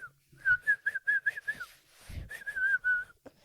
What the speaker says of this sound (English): I wish I could whistle.